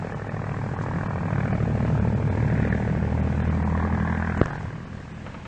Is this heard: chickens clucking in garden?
no